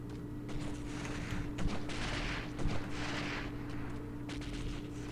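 Gunfire crackles in the Delta Force video game on a mission in Uzbekistan, several sharp shots and short bursts popping over a steady droning hum and wash of background noise.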